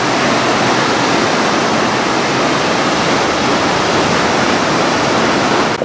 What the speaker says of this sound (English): passing by this lovely gorge and the falls there